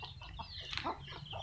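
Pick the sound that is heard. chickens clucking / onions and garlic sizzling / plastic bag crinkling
chickens clucking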